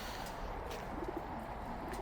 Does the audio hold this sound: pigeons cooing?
yes